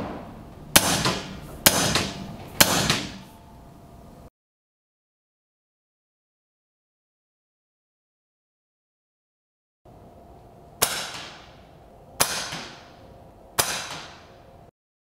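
Six sharp, separate shots from an Air Venturi Avenge-X .22 PCP air rifle fired over a chronograph, two groups of three about a second apart, each a crisp crack with a short decay, split by a long silent gap.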